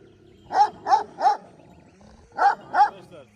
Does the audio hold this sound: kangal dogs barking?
yes